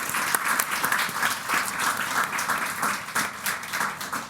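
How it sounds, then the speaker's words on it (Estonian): A conference audience gives a sustained round of applause for the day's presenters, dense, steady clapping filling the room throughout without a break. "teeme ühe suure aplausi veel kõikidele esinejatele"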